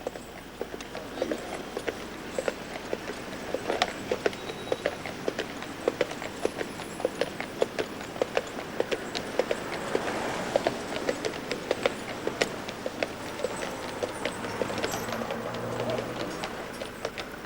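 Working horses pulling beer carts through a city street clip-clop steadily, with continuous hoof strikes in a brisk rhythm over a busy background hum of traffic.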